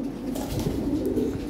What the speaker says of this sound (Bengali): আবার ব্রিডিং করতেছে কবুতর